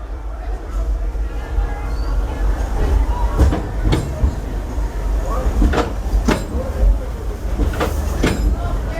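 Disneyland Railroad train running on Main Street at Disneyland, a steady rumble with repeated clacks and clunks of the cars over track, with ambient crowd noise.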